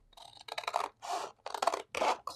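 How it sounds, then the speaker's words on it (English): Quiet, close snips of scissors or a cutter slicing through glitter cardstock in five or six short, crisp strokes with brief pauses between. "I'm going to cut this cardstock"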